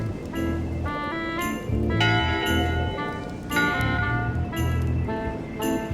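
A ship's bell in the video game Return to Monkey Island rings in paired strikes, bright metallic tones that ring out and decay, repeating over a steady musical background.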